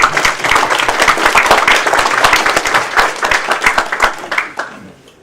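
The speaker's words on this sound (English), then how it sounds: "let's give a round of applause for Dennis Jett." An audience at a book talk applauds steadily with dense, overlapping clapping that carries on for several seconds, then thins out and fades near the end.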